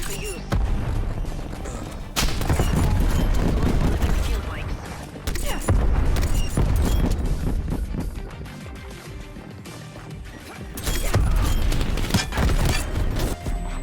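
A Bullfrog submachine gun fires in a video game in repeated dense bursts of rapid shots with short pauses between volleys, mixed with game sounds and voice lines.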